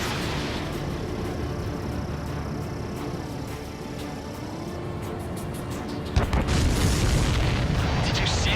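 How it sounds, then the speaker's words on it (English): A deep booming explosion erupts partway through over a constant roaring jet engine drone in Ace Combat 7, leaving a rumbling wash afterward. "Explosion?"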